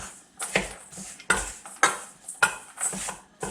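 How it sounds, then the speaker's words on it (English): A spoon stirs dry homemade hiking food with raisins and hot pepper in a pot, giving a run of scraping, clinking strokes at an uneven rhythm, close and fairly loud, with no talk. "Stir it all together"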